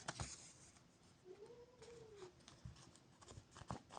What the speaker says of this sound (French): Et le chat regarde le chien et il râle.